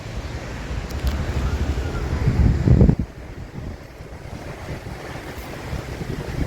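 Ocean waves at a beach on the coast near Murudeshwara, Karnataka, heard as a continuous rushing surf with strong wind buffeting the microphone, one louder swell near the middle, then a steadier wash.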